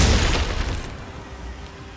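Glacius freezing spell cast in the Hogwarts Legacy video game, a brief loud crackling burst at the start that fades quickly into a dull, fading rumble.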